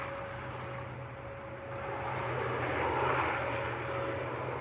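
A jet aircraft heads off on a flight to Aberdeen, heard from Manchester Airport as a distant, steady engine rumble and whine that swells slightly midway and then holds.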